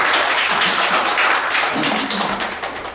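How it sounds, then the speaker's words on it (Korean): An audience at a national poetry recitation contest claps in a dense, steady wash of applause that fades slightly toward the end, with a brief voice murmuring beneath it. "큰 박수 부탁드립니다."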